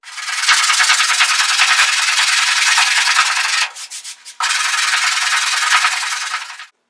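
Hand sanding body filler with 40 grit sandpaper on a car panel during restoration, a loud, close, continuous rasping scrape that pauses briefly midway with a few scratchy strokes before resuming and then stopping abruptly.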